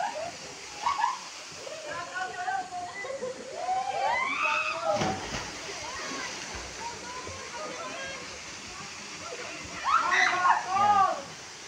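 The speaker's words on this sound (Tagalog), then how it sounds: "Ito yung ilog." River water rushing and sloshing steadily at a developing resort site in Magallanes, Cavite, with a continuous splashing wash under people talking and calling out nearby.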